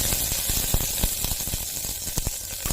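Ginger and garlic hitting hot oil in a pan, a bright continuous sizzle with sharp spitting pops scattered throughout, fairly loud and close, no talking.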